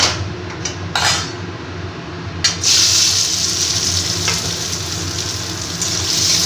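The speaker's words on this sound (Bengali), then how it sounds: "এবার প্রথমে আমি দানাগুলোকে ভেজে নেব" Shelled bean seeds frying in hot mustard oil in a wok, a loud bright sizzle that flares up after a few short bursts and then holds steady, close up with no talk.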